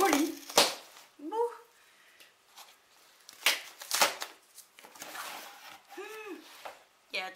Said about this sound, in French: J'étais en train de justement d'ouvrir le colis